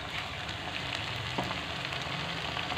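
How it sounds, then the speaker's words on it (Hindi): Onions frying with tomato and ginger-garlic paste for a chicken kachnar masala give a steady, close sizzle with faint stirring scrapes throughout, no voices. "और इसको अच्छा सा फ्राई कर लेंगे टमाटर नरम होने तक।"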